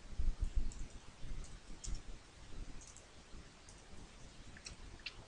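Typing on a computer keyboard produces quiet, irregular key clicks close by, denser at first and thinning out, with no voices.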